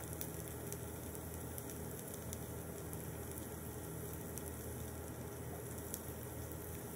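Clarified butter sizzling in a pan with pieces of rosti potato, a faint, even hiss and spatter holding steady with no talking.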